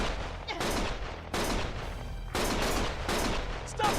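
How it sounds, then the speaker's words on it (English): Gunfire in the Lost Judgment video game: loud bursts of rapid shots in several blocks separated by short gaps, with a faint game voice. "Stop shooting!"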